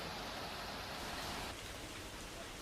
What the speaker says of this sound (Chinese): 听听外边这大雨下的，这一连下了好几天了